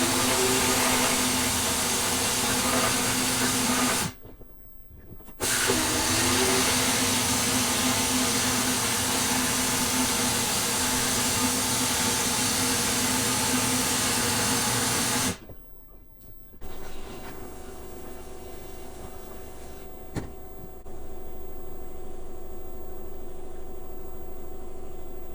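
A wet blaster cabinet blasts oily turbo housings and parts with a loud, continuous rushing hiss, cut by two brief pauses, the second leaving a quieter steady run.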